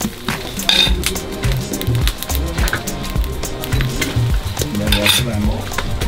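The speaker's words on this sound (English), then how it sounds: "put on a burning hot plate over top of that wood fire, and then fried up to a crisp" Roti made of flour and coconut frying on a burning-hot plate over a wood fire in a Sri Lankan village kitchen, steady sizzle with scraping and clinking of utensils throughout, fairly loud and close.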